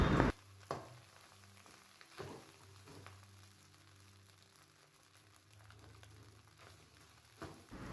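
Chicken fried rice ingredients, including carrot, being stirred in a frying pan, with a steady soft sizzle and scraping under a few louder utensil knocks.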